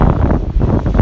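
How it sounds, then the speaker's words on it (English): Strong spring wind in Odate, Japan buffets the microphone in a steady, loud low rumble with gusty surges throughout. "It's a really windy spring day."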